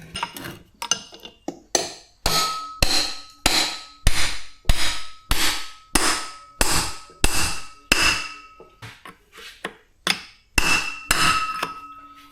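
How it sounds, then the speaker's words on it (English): A hammer drives a metal punch to knock a part out of a 150 lb electric motor with an aluminum plate, about twenty sharp, ringing blows in an uneven rhythm, close and loud. "I'm gonna take a punch and just punch that big thing right there"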